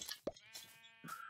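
A sheep in the Minecraft video game bleats twice, short nasal calls standing clearly above quiet game background sounds, with no one talking.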